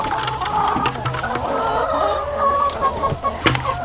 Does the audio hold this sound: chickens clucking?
yes